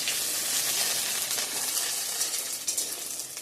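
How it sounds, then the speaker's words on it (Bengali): Hot oil sizzles and crackles steadily as bay leaves, garlic, onion, dried red chillies and whole cumin fry, a constant bright hiss with small pops near the end. "এদিকে আমি ফোড়ন দিয়ে দিয়েছি, তেজপাতা, রসুন, পেঁয়াজ, শুকনো লঙ্কা, গোটা জিরা"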